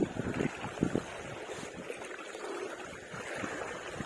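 Steady wind gusts across the shore during a shore-casting fishing outing, a continuous broadband rush with no pauses and no talk.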